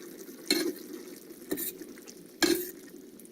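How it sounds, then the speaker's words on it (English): Sloppy joe meat mixture with sauce and seasoning stirred in a pan, three distinct scraping strokes against a low steady simmer, close and fairly quiet, no voices. "And then mix it some more and let it boil."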